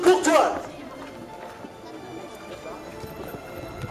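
Horses gallop in a medieval courtly joust at the European medieval market at the Citadel of Bitche in 2011, their hoofbeats thudding under someone talking through a loudspeaker.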